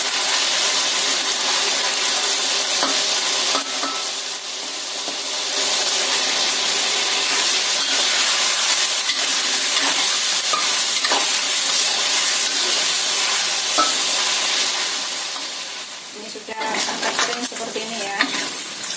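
Food fries in oil in a pan with a continuous hiss and sizzle, punctuated by stirring scrapes and clinks as pieces are flipped, with a louder clatter of turning near the end.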